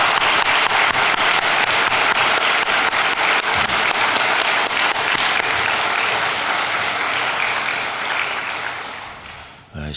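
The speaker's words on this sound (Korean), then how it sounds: "뜨거운 박수로 한번 격려해 주시기 바랍니다." Loud, sustained applause from a large church congregation at an early-morning prayer service, filling the space, steady throughout before tapering off near the end.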